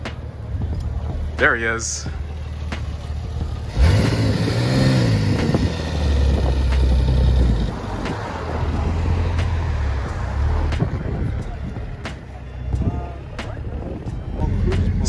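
A tinted-window Porsche 996 Turbo rolls through a New Jersey cars-and-coffee meet, its engine rumbling and briefly revving up before settling back, heard under nearby voices and general lot noise.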